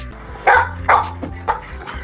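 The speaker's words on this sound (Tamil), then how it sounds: "அம்மா பாருமா, நாய் இது எனக்கு ரொம்ப பயமா இருக்குமா" A dog barks four times in a loose, uneven series, the first two barks loudest and the later ones softer, fairly close by with no talking over them.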